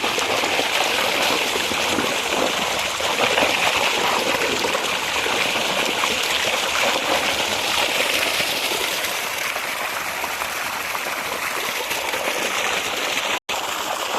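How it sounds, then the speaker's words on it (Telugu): Clean water flows steadily through a channel into a farm field, making a continuous rushing, trickling wash that stays even and fairly close for the whole stretch. "పొలానికి నీళ్ళు పారుతున్నాయి."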